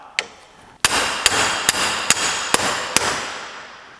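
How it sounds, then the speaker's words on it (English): A sharp metallic clank, then five evenly spaced hammer blows ring out on a metal plate, each strike bright and resonant, with ringing decaying between hits. "I'm gonna hammer on this plate here so that we can avoid any damage"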